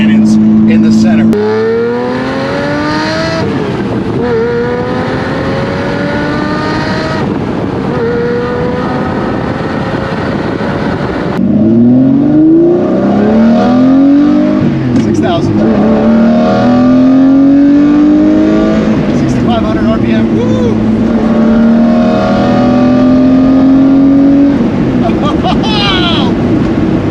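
A Lamborghini Murcielago with a six-speed gated manual and large center exhaust tips revs and accelerates loudly, pitch climbing through repeated gear pulls, close to the car with wind buffeting.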